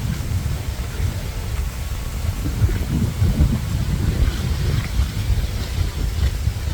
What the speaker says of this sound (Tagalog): napakalakas ng hangin guys